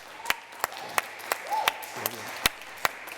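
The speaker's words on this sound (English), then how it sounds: "he deserves a round of applause" Sparse, individual hand claps from a small audience on a Welsh show, about eight sharp separate claps spread over three seconds with faint background voices.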